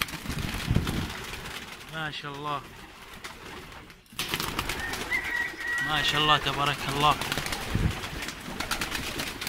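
Pigeons coo in a coop where the birds are laying eggs, two clear bursts of throaty rolling calls close by while someone speaks over them.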